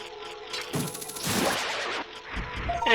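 Link shoots down a Gold Skulltula in Ocarina of Time: a sharp projectile whoosh and impact crash, followed by a short crunching hit effect and a bright chime, all game sound without talk.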